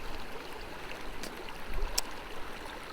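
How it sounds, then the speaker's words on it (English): Diamond Creek running along the bottom of a canyon, a steady broadband rush of flowing water heard close by with a faint splash or two, no voices. "now this is Diamond Creek."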